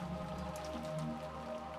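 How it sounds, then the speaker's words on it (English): Rain patters steadily on a surface in the visual novel game Umineko no Naku Koro ni, a soft, even hiss of drops with a faint low hum underneath. "pass the time listening to the sound of the rain"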